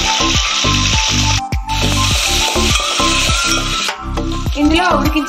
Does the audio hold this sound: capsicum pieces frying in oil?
yes